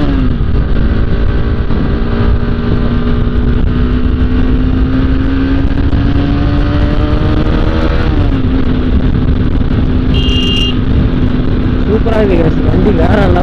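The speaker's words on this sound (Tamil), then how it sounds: "வண்டி வேறு லெவலில் எக்ஸாஸ்ட் நோட்டு வந்து சும்மா தெரிக்க விடுது" Bajaj Pulsar RS 200 motorcycle exhaust droning steadily while riding, a continuous engine note that rises gradually then dips and climbs again, loud and close throughout with wind noise.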